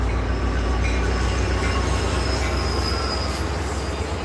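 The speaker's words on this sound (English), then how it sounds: "there goes another train. Coaster this time." A Coaster commuter train rolls past close by in San Diego, a loud steady rumble of wheels on rails with high metallic squealing throughout, no speech.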